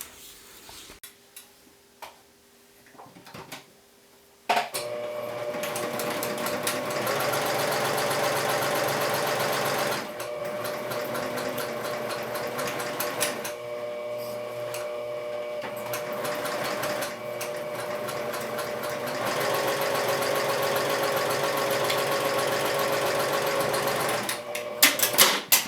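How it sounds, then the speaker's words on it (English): A domestic sewing machine stitches fabric panels together along a straight half-inch seam. Its steady mechanical whir and rapid needle ticking run loud and close for long stretches, with short pauses between runs. "you're going to sew these panels together with a 1/2 inch seam allowance along the straight edge"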